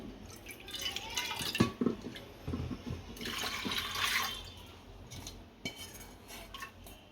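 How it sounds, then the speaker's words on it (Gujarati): Water is poured into a pot of washed pigeon pea dal for dal dhokli. A brief splashing surge is surrounded by light clinks of utensils and faint drips in a quiet home kitchen. "થોડું પાણી નાખશું."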